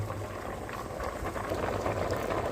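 A pot of Jaffna odiyal kool with tubers boils away, giving a steady, dense bubbling and gurgling that holds close and even throughout, with no voices.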